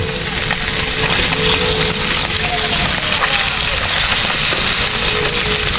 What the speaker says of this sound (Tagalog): Sabay na natin sa prito.